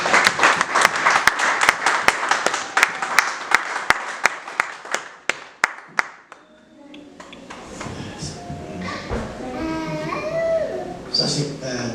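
Church congregation applauding during a Sunday service, a steady run of sharp claps that ends after about six seconds, followed by murmuring voices and shuffling in the hall.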